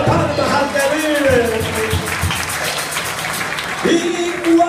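Church congregation clapping under singing and voices, a steady wash of palms with a melodic voice rising over it.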